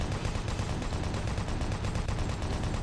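Rapid bursts of automatic gunfire from Doom 3 video game weapons in a steady, continuous rhythm, dense and unbroken, with no voices.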